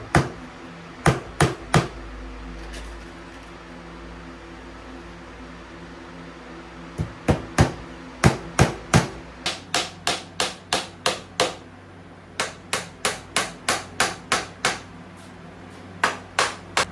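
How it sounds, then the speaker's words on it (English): Finish nails driven by hammer into a tiled table top, sharp bright taps in short bursts, two early strikes then a long pause before rapid, evenly paced runs of blows, close and loud over a faint steady hum. "Just gonna start a couple finished nails."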